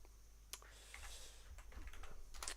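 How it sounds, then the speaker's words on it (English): Typing on a computer keyboard in the background of a livestream, faint scattered key clicks with a few sharper taps, over a low steady hum. "Just typing here"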